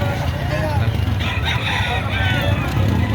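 A six-month-old rooster crows amid steady background noise, with people talking nearby.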